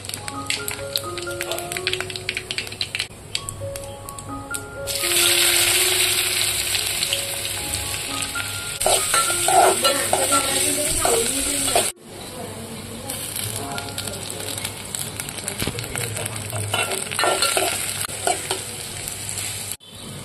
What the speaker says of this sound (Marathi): तेल टाका आणि तेल थोडे गरम झाले की त्यामध्ये जिरे, मोहरी आणि कांदा टाका.